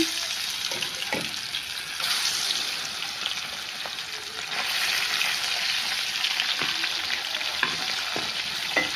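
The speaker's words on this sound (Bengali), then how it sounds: "কড়াইতে তেল দিয়ে দিয়েছি, এই তো মাছগুলো দিয়ে দিচ্ছি।" Small puti fish frying in hot oil in a wok, a loud continuous sizzle with bursts of crackle and light stirring clinks throughout.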